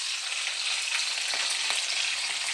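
Curry leaves and green chillies crackle and spit in hot oil, a dense, even sizzle heard up close with no talking.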